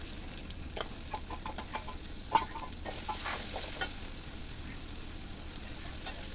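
Onion and crushed garlic frying in hot coconut oil for a beef curry, a steady low sizzle with faint stirring clicks and a scrape or two, fairly quiet and heard alone without talk.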